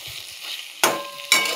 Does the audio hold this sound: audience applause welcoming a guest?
no